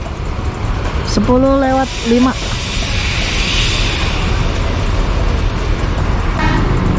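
A full passenger bus pulling out of Kampung Rambutan terminal amid busy roadway noise, with a loud horn toot near the start over a constant rumbling traffic wash, and a voice talking briefly.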